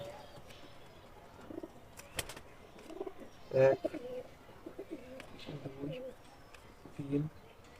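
A pigeon coos softly in low, throaty bursts while its wing feathers are pulled one by one, with faint handling rustles and a person talking nearby.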